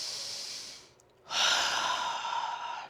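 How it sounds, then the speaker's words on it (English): Deep breaths taken lying on the floor during a shoulder exercise session: a long, airy exhale trailing off, a brief pause, then a strong, close breath that carries on steadily to the end. "Let's just take a couple of breaths here."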